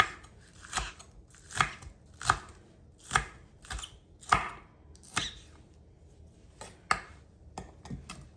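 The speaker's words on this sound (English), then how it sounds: "Chop these up nice and fine" A knife chops green vegetables finely on a cutting board for a spicy Korean cucumber salad. About a dozen sharp, close knocks come in a fairly steady rhythm, with short gaps between them.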